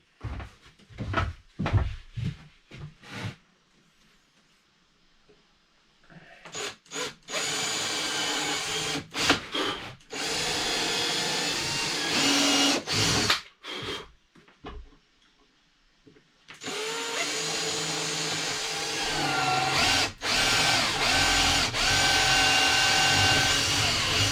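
Short bursts of a power drill whirring into wood with a small bit, then longer sustained drilling runs with brief pauses between, loud and close, no talking.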